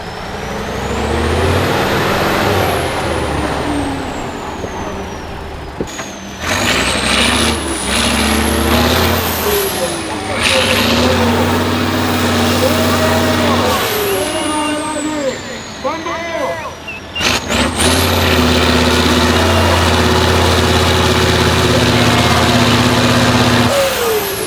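An excavator climbs up from below at a Tatra 6x6 truck trial on steep off-road slopes, loud diesel engines revving and straining with rising and falling whines, air-brake hisses and clanks, with a commentator talking over the noise throughout.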